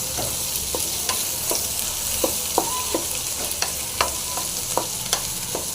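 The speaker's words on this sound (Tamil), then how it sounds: "வெங்காயம் வந்து நல்லா ஃப்ரை ஆகணும்" Onions fry in a pan for a prawn and dry fish gravy, giving a constant sizzle with sharp clicks of a spoon against the pan at irregular moments, with no talking.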